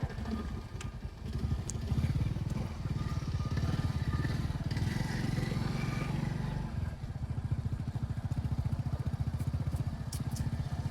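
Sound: motorcycle passing at the edge of a farm field

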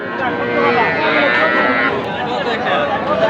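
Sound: cattle mooing at livestock market

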